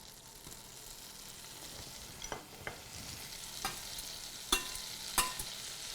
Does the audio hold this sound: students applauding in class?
no